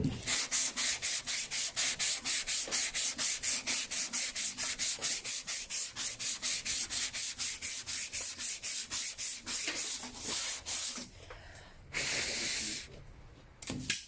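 A random orbital sander works over a car body panel in a body shop, a loud, steady rasping hiss with fast rhythmic pulsing that runs for about ten seconds, then gives way to bursts of air blowing.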